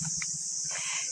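Crickets chirp steadily all around at a rural spot in the late afternoon, a continuous high trill with soft low pulsing beneath, heard alone with no talk.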